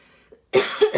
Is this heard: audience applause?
no